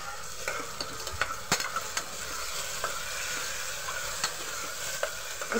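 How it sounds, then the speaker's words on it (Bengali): Onions with ginger garlic paste frying in a pan for mutton paya, a constant hissing sizzle with sharp clicks and scrapes of a spoon stirring, and no voices. "পেঁয়াজটাকে ভালোভাবে ভেজে নেব"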